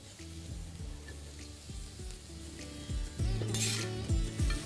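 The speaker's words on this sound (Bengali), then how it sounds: "তারপর এটাকে আবারও ভালো করে ভেজে নিন।" Vegetables sizzle in a pan for street-style chicken chowmein, the frying hiss mixed with repeated clinks and scrapes of a metal spatula against the pan, a louder burst of sizzling midway.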